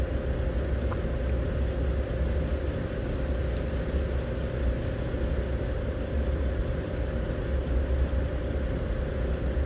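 Steady low engine drone from a turbocharged daily-driver car in the roleplay game One State RP, idling or cruising at an even, moderately loud level with no voices.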